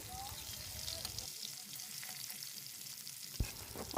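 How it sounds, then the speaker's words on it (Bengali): Pieces of katla fish rubbed with salt and turmeric sizzle in hot oil, a steady close crackle with a brief sharper pop near the end and no talking. "মাছগুলো প্রথমে আমি লবণ হলুদ দিয়ে ভালো করে মাখিয়ে নিয়েছি এখন লাল লাল করে ভেজে নিব"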